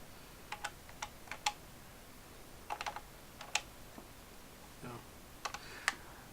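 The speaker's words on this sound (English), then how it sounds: "all the buttons have an amazing feel to it, very, very clicky" The keys of an Aurora DC-10 calculator are pressed in quick irregular bursts, producing crisp, close, quiet clicks with short pauses between groups.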